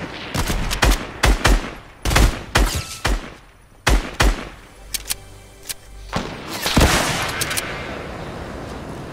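Rapid bursts of gunfire from a Fortnite match, sharp repeated shots and volleys in uneven clusters, loud and close, with a few lone thuds, then a denser rushing spell near the end; no talking.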